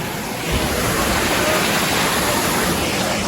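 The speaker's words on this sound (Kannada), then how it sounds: "ಇಲ್ಲಿ ನ್ಯಾಚುರಲ್ ಆಗಿ ನೀರು ಹರಿಯಾತಿದ್ವು" A natural water stream rushes through the Kavala Caves at Dandeli, Karnataka, a loud, dense, continuous hiss of flowing water that fills the space evenly with no breaks and no talking.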